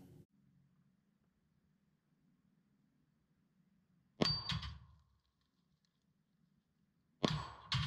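Pistol rounds from a Wilson Combat EDC X9 ringing off a steel plate rack at 50 yards, two sharp metallic clangs several seconds apart over a quiet background.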